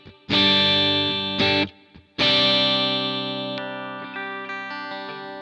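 Electric guitar through a Kemper rig with the compressor off, a bright distorted chord strummed twice with a brief muted scratch between, then left ringing and slowly decaying with uneven sustain.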